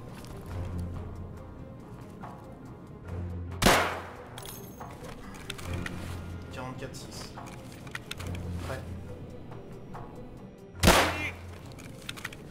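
Two sharp, loud gunshots strike Kevlar body armor in Escape from Tarkov, one a few seconds in and another near the end, each with a hard crack and short tail over a steady low game background.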